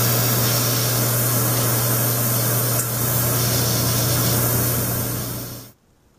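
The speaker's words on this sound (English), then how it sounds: "now I'm going to use my airbrush and paint the entire model with the base color" Airbrush spraying base color paint over a plastic Airfix WWII RAF vehicle model kit, a steady close hiss with a constant low hum running for about six seconds before cutting off abruptly.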